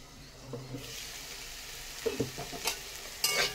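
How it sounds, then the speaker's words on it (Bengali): Brinjal frying with neem leaves sizzles softly in a pan, with a few sharp scraping and stirring knocks from a spoon toward the end, close and moderately loud, no talking. "বেগুনটা অনেকটাই ভাজা হয়ে গেছে, আর একটু ভেজে নেব"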